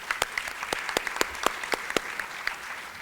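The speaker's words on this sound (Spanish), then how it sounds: "Un fuerte aplauso para el doctor Mauricio Pavas." Applause at a panel on criminal procedural law, with sparse, distinct claps ringing out at an uneven rhythm over a low room hum, fairly close and moderately loud.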